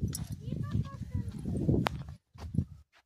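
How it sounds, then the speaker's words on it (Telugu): Cows walking along a village field path, their hooves clopping in an uneven rhythm close by, mixed in with people talking nearby before a brief quiet stretch. "ఆవులు వస్తున్నాయి"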